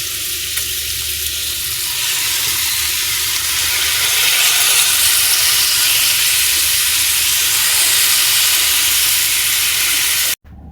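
Loud, steady sizzling as soy sauce hits a hot pan of sautéed cauliflower, a dense continuous hiss and crackle that holds for several seconds and then cuts off abruptly, with no talking.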